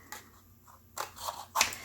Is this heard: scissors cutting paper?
yes